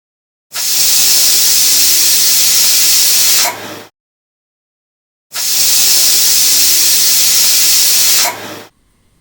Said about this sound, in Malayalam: ഇപ്പോൾ ഇവിടെ കറക്റ്റ് രണ്ട് വിസിലായിട്ടുണ്ട്